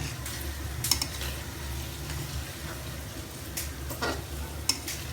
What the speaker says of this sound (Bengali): মরিচ, পেঁয়াজ আর রসুন এখন মানে এটা ভাজতেছি আর কি